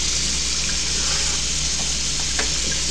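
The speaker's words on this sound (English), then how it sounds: "Best way to do it is just put on your hot tap and let it run for a while." Hot water running steadily from a tap, a continuous loud hissing gush with no breaks and a faint low hum beneath.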